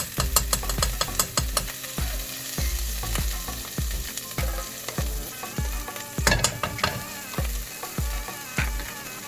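Butter and oil sizzle loudly in a hot pan for Hyderabadi fried mutton, a continuous crackling fry broken by frequent sharp pops and spatters, close and with no talk.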